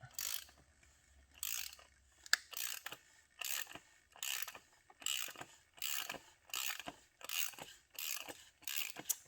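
A ratchet wrench loosening the oil filter on a Jaguar F-Pace during an oil change, giving about a dozen quick clicking bursts in a steady rhythm, close and fairly quiet, with no talk.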